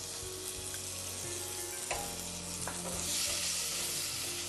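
Ginger-garlic paste fries in a pan with poppy seeds, cloves and cardamom, giving a steady, close sizzle broken by a few scraping stirs and light clinks, with no talking.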